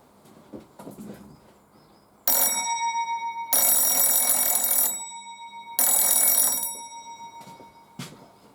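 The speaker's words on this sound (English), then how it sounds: "So I think I'll have to walk over there to ring the bell" An old mechanical doorbell rings in three loud, bright metallic bursts with sustained ringing tones that fade after each, set apart by short pauses, with quieter handling noises between.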